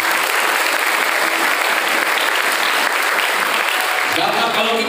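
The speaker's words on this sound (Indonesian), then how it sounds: "Tepuk tangan untuk kita semua." Audience of vocational high school students applauding at a motivational seminar in Ciawi, Bogor, a dense, steady wash of many hands clapping that fills the whole stretch and stays loud throughout.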